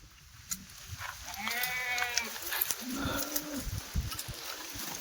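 Kathiawari goats on a farm let out a couple of wavering bleats, one drawn out and another shorter, close by over quiet outdoor background with faint bird sounds.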